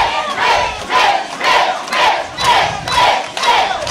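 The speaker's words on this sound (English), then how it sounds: "the crowd is firmly behind Mitch." Wrestling arena crowd chanting and cheering in rhythmic, loud surges roughly every half second, a dense roar of many voices rising and falling with no single speaker.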